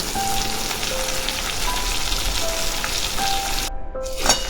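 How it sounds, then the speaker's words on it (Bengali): Prawns frying with potatoes in a pan, a dense, even sizzle like light rain that runs throughout, with a short gap near the end followed by a brief louder burst, close and without talk. "চিংড়ি মাছটা দিয়ে আলুর সাথেই ভালো করে ভেজে নেব।"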